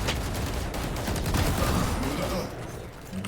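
Shotgun fire in an online shooter video game comes as a dense barrage of overlapping gunfire and booms, with loud sustained rumble and sharp cracks layered together throughout.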